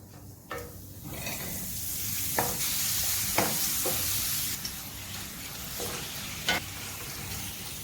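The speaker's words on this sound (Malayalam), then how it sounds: "എൻ്റെ ഈ കട്ട് ചെയ്ത പപ്പടം ഇതിലേക്ക് ഇട്ട് കൊടുക്കാം" Cut pappadam pieces frying in hot coconut oil in a pan, giving a steady, loud sizzle with occasional sharp crackles and pops rising over the continuous hiss, no talking.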